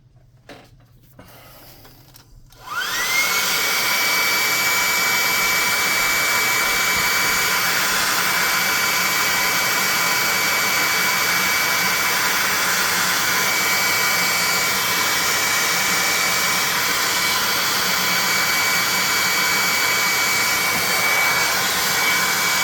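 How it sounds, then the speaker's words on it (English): A hair dryer switches on after a quiet moment and blows loudly and steadily at close range with a constant whine, drying a handmade tabletop-game troll miniature. "Let's hit it with the hairdryer."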